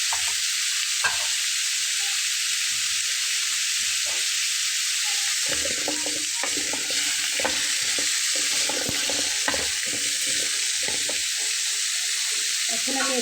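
Potatoes frying in hot oil for a Bengali fish curry, a continuous hissing sizzle up close with intermittent scrapes and knocks of stirring, steady in loudness throughout without any speech.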